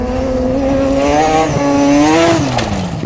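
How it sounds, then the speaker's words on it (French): A historic rally car's rotary engine revs loudly and steadily, its pitch rising and then falling, close and continuous with no voices. "Pour Philippe Gache, c'est le moment de faire rugir son moteur."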